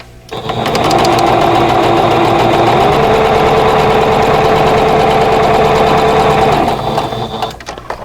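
A sewing machine stitches a quilt block seam for several seconds, a loud close-up mechanical whir that starts, holds its pace, then winds down and stops.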